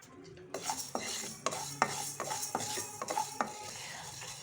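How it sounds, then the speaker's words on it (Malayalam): Fenugreek seeds dry-roast in a pan on the stove, stirred with a utensil in a quiet series of scraping strokes and small clinks, roughly one every half second, with a faint sizzle underneath. "ആദ്യം തന്നെ നമ്മളൊരു പാൻ അടുപ്പിൽ വെച്ച് കുറച്ച് ഉലുവായിട്ട് വറുക്കുകയാണ്."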